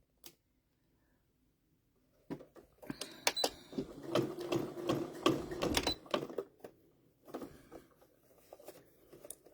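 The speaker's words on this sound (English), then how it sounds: "So we're just going to top stitch this." A sewing machine top-stitches a small cast iron pot holder handle, running in a close burst of rapid mechanical stitching with brief pauses and stops.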